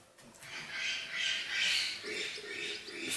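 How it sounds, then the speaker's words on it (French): Pet parrots squawking indoors, a run of harsh, fairly loud calls in overlapping bursts, heard alone without talk. "J'ai peur qu'on entende un peu trop mes oiseaux, là, mes perroquets, qui chantent en arrière-fond"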